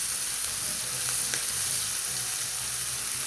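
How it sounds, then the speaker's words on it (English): Beef patty sizzling in hot oil in a frying pan, a steady bright hiss that stays loud and continuous throughout, with a couple of brief crackles and no talk. "we're just going to put the patty in the frying pan"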